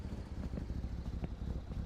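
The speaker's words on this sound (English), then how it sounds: "It's idling. Very poorly, but it is idling." A Corris Rivett car in My Winter Car idles roughly and unevenly, a low, lumpy engine rumble with faint irregular pops, steady and close throughout with no talking.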